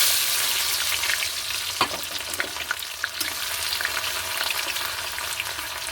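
Onions tossed into hot oil with bay leaf for chicken biryani sizzle loudly and steadily up close, with one sharp knock of a utensil and a few crackles over the continuous frying hiss, and no voices.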